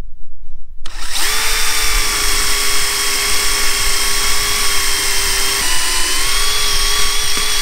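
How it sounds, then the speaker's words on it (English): A power drill bores a hinge hole through a wooden cabinet door held in a jig, a loud steady whine that starts abruptly after a second of quiet and runs on without a break. "we can simply push the jig against the piece of wood here and drill our hole."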